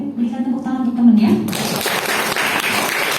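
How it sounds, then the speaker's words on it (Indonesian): Classmates in a classroom break into scattered clapping for a fellow student, starting abruptly after a voice speaks and continuing steadily at moderate loudness. "Boleh berikan tepuk tangan untuk temennya"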